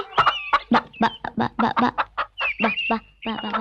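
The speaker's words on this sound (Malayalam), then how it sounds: "എന്റെ ഈശോയെ, എന്നാ വലിപ്പമായി കോഴിക്കൊക്കെ!" A rapid series of chicken clucks and squawks, close and fairly loud, with short bursts following one another almost continuously.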